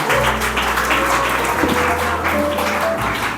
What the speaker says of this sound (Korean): 큰 박수로 축하해 주시면 감사하겠습니다